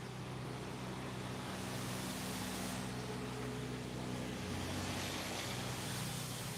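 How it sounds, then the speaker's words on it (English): A truck pulls away from a slaughterhouse, its low engine rumble steady and fairly loud across the whole stretch, mixed with broad outdoor noise and no talking. "This truck leaving"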